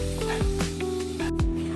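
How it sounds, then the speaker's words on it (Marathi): Red thecha chili paste frying in oil on a low flame gives a steady close sizzle, while a spoon scrapes and stirs in a few regular strokes. "तुम्ही बघू शकता आपला ठेचा छान फ्राय होतो आहे."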